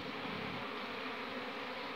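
Dense buzzing of a wild honeybee swarm being coaxed into a hive box holding a caged queen, a steady mid-range hum from many wings close by, with no talk.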